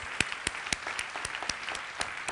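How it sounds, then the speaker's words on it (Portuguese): A church congregation claps during a Portuguese-language worship service, a loose, moderately quiet patter of hands with distinct sharper claps standing out at a steady, roughly regular pulse. "Dê um aplauso ao Senhor."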